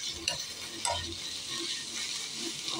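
Greens tips sauté in refined oil in a pan, giving a soft continuous sizzle broken by scraping, clattering stirs of a spoon against the pan, close and fairly quiet.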